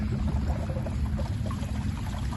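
Irrigation water rushes steadily through opened channels in a Punjab farm field, a continuous close pouring gush with a low rumble underneath and no speech.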